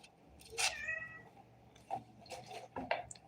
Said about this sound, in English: cat is going to serenade us with his little sweet, crying, pitiful voice.